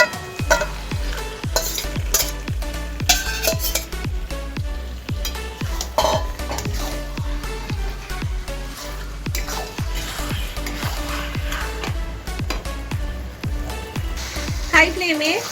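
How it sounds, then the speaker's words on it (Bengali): Chicken pieces stir-fried with spices and softened tomatoes for chicken masala over a high flame, with a continuous loud sizzle and steady, rhythmic scraping of a spatula against the pan throughout. "হাই ফ্লেমে আমি 5 থেকে 7 মিনিট খুব ভালো করে চিকেনটাকে কষিয়ে নেব।"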